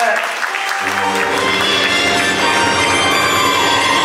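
An audience at a religious stage performance breaks into loud, sustained clapping that builds after a brief quieter opening. A ringing, bell-like tone runs underneath and continues throughout.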